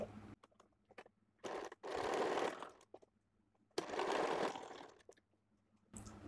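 A sewing machine stitches piping onto a blouse in short bursts of close whirring, with quiet pauses and small clicks between runs.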